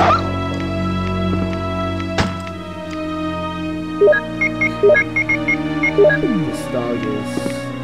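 A dog in Resident Evil 1 barks in short repeated yelps and whimpers, a rhythmic run of sharp calls in the second half over steady game music and sounds, with someone talking.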